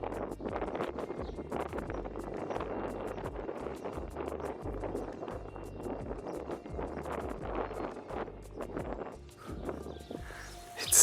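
Wind buffets a hilltop setting at Cola Castle, a Bronze Age fortress, with a continuous low, gusty rumble that stays fairly even throughout, the blustery rush close against the microphone.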